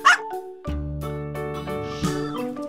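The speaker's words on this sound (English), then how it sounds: "This animal is called dog, the friendliest pet to have at home." A dog gives a single sharp bark at the start, then sustained background music continues without further barking.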